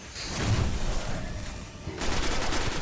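Gunfire from the video game Destiny, loud and close, a dense fusillade of rapid shots running steadily throughout with a brief dip before the firing swells again.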